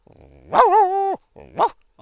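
Someone mimics a male and a female dog fighting: a low growl rising into a long snarling howl, followed by a shorter growling bark, close and loud.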